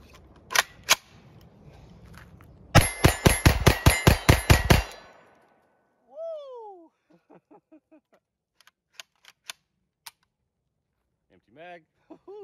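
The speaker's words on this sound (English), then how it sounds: "I'm gonna go ahead and do what y'all came here for, and that's a mag dump" Pistol firing 115 grain rounds, opening with two single shots and then a rapid string of about eight loud, evenly spaced cracks. Quieter metallic handling noises and voices follow.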